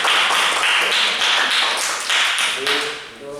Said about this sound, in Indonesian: Berikan aplaus dulu untuk kelompok